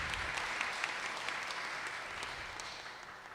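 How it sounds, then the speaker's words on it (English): An audience at a book launch claps steadily, a dense even patter of many hands heard at a distance in a hall, tapering slightly toward the end. "please give them a round of applause"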